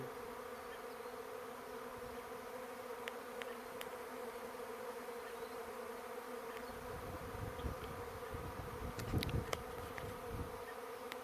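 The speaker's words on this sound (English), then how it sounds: "So they're here, and there's bees beginning to make their way down" Bees buzz around a catch box outdoors, a dense, steady hum from many insects close by, with a few louder passes and knocks near the end.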